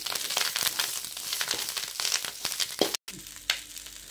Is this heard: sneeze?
no